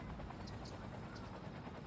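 Helicopter rotor drone from the Cities: Skylines city-builder game, a steady low broadband whir continuing throughout at moderate distance, with no talk over it.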